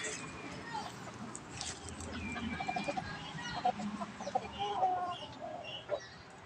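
A Boston Roundhead gamecock rooster clucks and calls in an open-air farm setting, with short bird sounds scattered over outdoor background noise and people talking.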